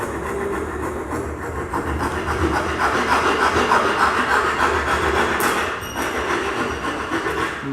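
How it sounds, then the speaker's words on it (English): A coarse hand file shapes a piece of wood in a continuous run of close, dry rasping strokes, rough and even, with a slight swell midway and a softer tail. "I'm going to start with a coarse file to try and shape it."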